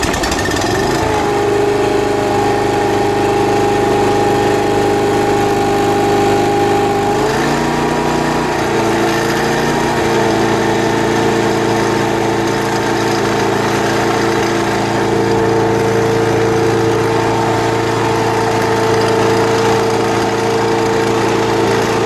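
A small engine powering a Keene RC1 rock crusher runs at about half throttle, giving a loud, steady, continuous drone with a slight shift in tone partway through and no talking.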